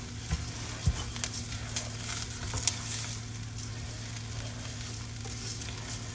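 Rice toasting in a pan for Spanish rice gives a quiet, steady sizzle with faint crackles and a few soft taps, under a constant low hum, with no voices.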